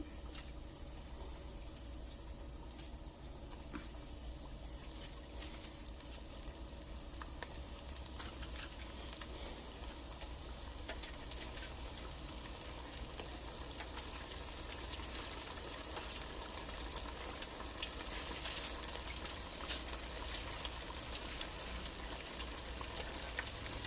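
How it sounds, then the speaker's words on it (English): Buttermilk-battered chicken pieces deep frying in hot grease give a steady, dense sizzle with crackling pops, close and continuous with no talk over it. "I'm going to be dropping it in the grease"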